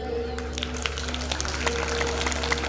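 Audience clapping at a Hindu religious discourse (katha): scattered, irregular hand claps patter steadily over a low background hum, with no chant or speech on top.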